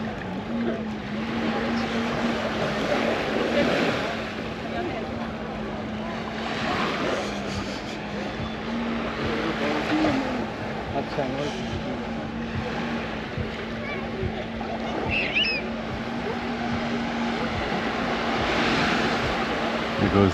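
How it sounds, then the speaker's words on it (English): A Sea-Doo personal watercraft towing a banana boat full of riders off a Hua Hin beach in Thailand, its engine a steady, continuous drone mixed with surf and wind throughout. "There goes the Sea-Doo pulling the banana boat with all those guys we just saw."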